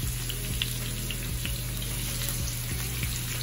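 Seasoned halibut searing in lemon-flavored coconut oil in a pan, a loud, steady close sizzle with crackling pops throughout.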